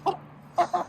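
Backyard chickens give short clucks, one then a pair in quick succession, close and fairly soft, with no talking over them.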